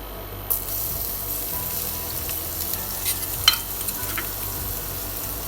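Garlic fries in hot oil for crispy pork belly, a steady, close crackling sizzle with scattered sharp pops and an occasional stir.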